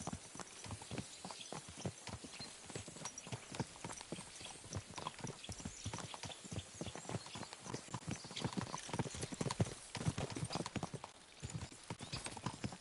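Horse hooves clip-clop fast and steadily in the video game Kingdom Come Deliverance 2, a dense, continuous run of close hoof strikes with no speech over them.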